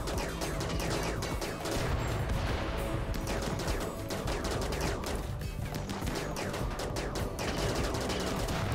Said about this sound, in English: let's get our incendiary launchers going